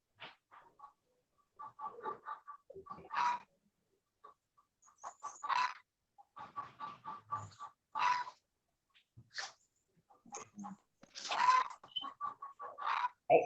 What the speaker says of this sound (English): I'm hearing some chickens